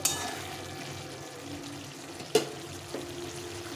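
Cauliflower curry sautéing in hot oil in a pan, a steady soft sizzle and fry with a sharp clatter of stirring midway and a lighter knock near the end, no talk.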